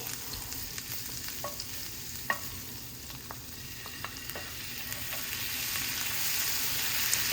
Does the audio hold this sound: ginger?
yes